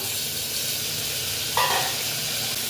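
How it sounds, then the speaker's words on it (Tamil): Tomatoes drop into hot oil with sautéed onions and biryani spices, and a loud continuous sizzle swells slightly as they hit the pan, close and without talking. "இப்போ வந்து தக்காளி போட்டுக்கலாம்."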